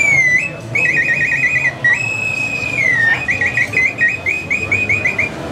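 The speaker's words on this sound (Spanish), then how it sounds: "Ah, sí, son silbatos prehispánicos" A pre-Hispanic clay bird whistle trills and warbles continuously, high and piercing, with brief pauses and wavering pitch, close by over faint background noise at a pow wow market.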